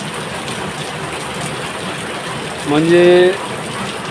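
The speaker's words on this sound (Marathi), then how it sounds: "हा पाऊस जवळपास 2 महिन्यामध्ये एकसारखा पहिल्यांदा पडत आहे." Heavy, continuous rain pours over Jalna city as a steady, even hiss, and a voice briefly speaks over it near the end.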